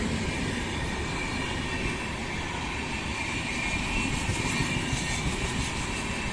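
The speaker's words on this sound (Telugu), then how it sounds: "ఇక్కడే ట్రైన్ కూడా వెళ్తూ ఉంటుంది. సో ఇప్పుడే చూడొచ్చు మీరు, ట్రైన్ కూడా కరెక్ట్ టైంకి వచ్చింది." A train rumbles steadily past a railway gate near a park, continuous low roaring and clattering, loud and close throughout, no voices.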